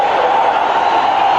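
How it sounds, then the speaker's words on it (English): Stadium crowd at a 1983 USFL football game between the Blitz and Federals, a broad sustained roar of cheering that fills the whole moment, loud and steady with no gaps. "What a great cheer."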